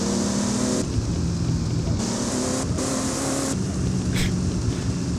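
A Ford GT40 in the game Driving Empire roars along with its engine note rising and dropping through several gear shifts, loud and close, a steady drone broken by brief revs.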